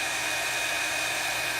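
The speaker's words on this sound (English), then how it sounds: "I pulled my embossing gun over so that I could take and emboss without leaving." An embossing heat gun blows hot air in a steady, close, unbroken whoosh with a thin high whine running through it.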